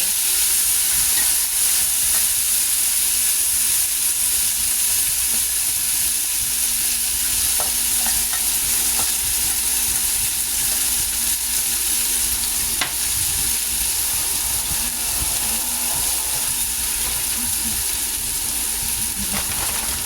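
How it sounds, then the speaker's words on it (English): Loud, continuous sizzling and hissing of food frying in a hot pot, steady throughout with occasional faint clinks, close up. "We'll know if it sizzles."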